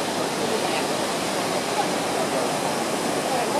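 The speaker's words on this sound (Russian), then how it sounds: "Там водопад." The Taulan waterfall roars as a dense, steady broadband rush of falling water in a jungle setting, loud and unbroken throughout.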